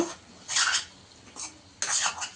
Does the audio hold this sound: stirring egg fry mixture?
yes